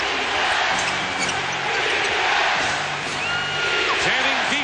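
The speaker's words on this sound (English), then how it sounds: "Chanting defense." A packed basketball arena crowd during the 1989 NBA Finals, Game 3, chants defense in a loud, rhythmic, sustained roar, with a ball bouncing on the court and voices yelling within the noise.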